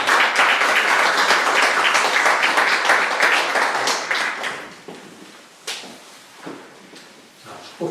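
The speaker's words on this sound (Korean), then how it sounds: "박수 한번 부탁드립니다." Congregation applause at an outdoor Sunday service of an Anglican church in Washington, a dense burst of clapping for about four seconds that thins to scattered claps and fades.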